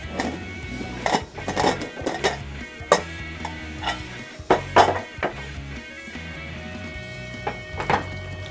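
A pressure cooker of beef is opened after cooking, giving a run of sharp metallic clanks, taps and knocks of the lid and pot, irregular and close, with quieter gaps between bursts.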